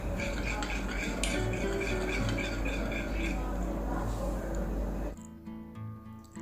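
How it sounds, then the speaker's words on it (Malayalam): Custard powder and milk being mixed in a bowl, with a spoon clinking and scraping against the dish in steady, close stirring strokes over a low background hum, then a short break near the end. "ബൗളിൽ 2 ടേബിൾ സ്പൂൺ കസ്റ്റാർഡ് പൗഡറും നമ്മൾ മാറ്റി വെച്ച 1/2 കപ്പ് പാലും കൂടെ ചേർത്തിട്ട് നന്നായിട്ടൊന്ന് മിക്സ് ചെയ്ത് കൊടുക്കുക"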